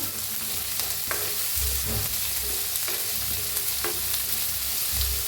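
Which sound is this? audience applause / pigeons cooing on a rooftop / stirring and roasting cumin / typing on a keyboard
stirring and roasting cumin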